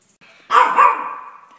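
A pet dog lets out one loud, close bark that trails into a short whine, heard on its own in an otherwise quiet kitchen.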